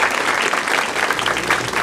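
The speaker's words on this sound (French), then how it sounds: "J'aimerais que vous donniez une bonne main d'applaudissement à tout le monde qui est là" Loud, dense audience applause at a live podcast recording in a club, a continuous wash of many hands clapping close and full throughout.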